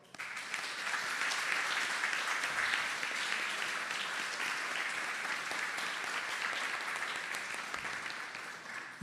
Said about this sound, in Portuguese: eu peço aqui que a gente bata palmas para o Vini Júnior